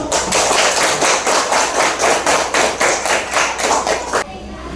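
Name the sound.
clapping hands, applause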